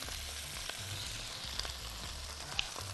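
Potatoes and onions sauté in a pan for an Egyptian oven-baked potato tray, giving a soft, steady sizzle with a few faint utensil clicks and no talking.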